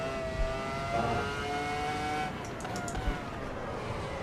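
A race car engine in Assetto Corsa EVO holds a loud, steady high-pitched whine with a couple of shifts in pitch, close and continuous, with no voices.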